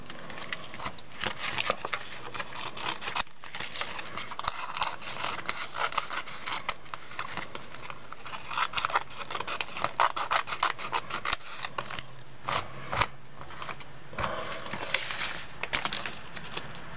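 Scissors trimming excess edges of a fabric snippet roll, close rubbing and snipping noises that come in uneven bursts with short gaps.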